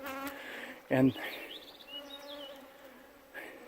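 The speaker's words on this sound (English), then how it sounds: "there might just be a mosquito or two." Mosquitoes and other insects buzz at a Wisconsin bird survey point outdoors, a thin whining hum drifting close and fading, with one brief louder buzz passing near and a single spoken word.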